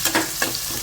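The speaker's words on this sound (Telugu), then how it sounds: "ఈ ఉల్లిపాయ ముక్కల్ని ఒక 2 నిమిషాలు ఫ్రై చేసేసుకోవాలి" Chopped onions and green chillies fry in a pan with a loud close sizzle, and two quick stirring scrapes come near the start. No voices are heard.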